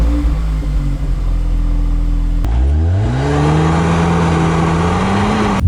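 A 2021 Audi S3 Sportback engine idles steadily, then revs up sharply and settles into a higher held drone through the exhaust, loud and close with no talk.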